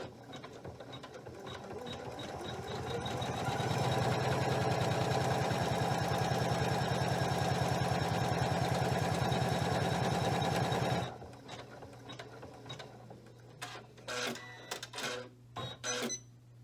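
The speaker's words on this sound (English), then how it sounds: "we're going to go ahead and click go again to do the placement stitch for the rows in the middle" A Janome 500E embroidery machine runs a placement stitch with a fast, steady mechanical whir and rapid needle clatter, then stops abruptly, leaving a low hum and scattered clicks and taps.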